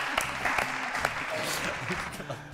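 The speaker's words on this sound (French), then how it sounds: "Applaudissements pour mes trois invités, s'il vous plaît" Studio audience on a French television talk show applauding three guests, a steady wash of clapping that runs throughout, with voices mixed in underneath.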